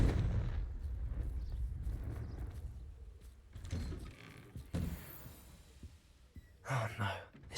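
A Confringo fire-blast spell cast in the video game Hogwarts Legacy, heard as a few booming bursts with crackling tails over a low rumble, the sharpest blasts arriving near the end.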